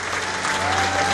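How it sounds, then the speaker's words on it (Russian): Festival audience at the opening of the Kazan international Muslim film festival applauding in a large hall, a dense continuous wash of clapping, loud and even, with a faint tone running beneath. "Передайте аплодисменты вам!"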